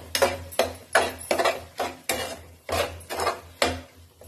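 Spices frying in a pan for a Sankranti festival dish are stirred with a utensil: about eight rhythmic scraping strokes, fairly close and clear, with no talking.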